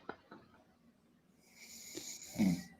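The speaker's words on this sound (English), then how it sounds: "snoring on stream." A man asleep during a livestream snores in slow rough rasps, faint and a little distant, with one louder snort near the end over a low room hum.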